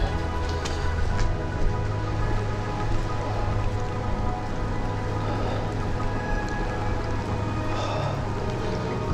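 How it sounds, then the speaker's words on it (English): Rain falls across a roofless, abandoned official building in Liberia, a steady soft patter and hiss that holds evenly throughout with no voices. "It's starting to rain."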